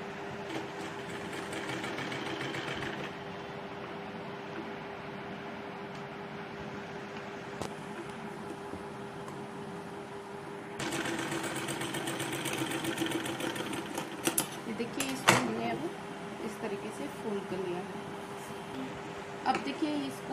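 A sewing machine stitches a kurti lining, running in a steady mechanical whir that grows louder and busier partway through, with brief clatters and a soft voice talking over parts of it.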